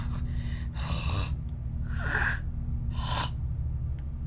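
Three loud, breathy rasping breaths come in slow succession over a steady low hum, each a drawn-out heavy exhale close to the microphone.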